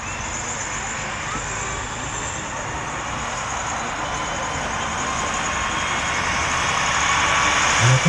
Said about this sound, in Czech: ďalšom prevedenom stupni prichádza do stanice Alpinka aj s ručným vodičom. Františkom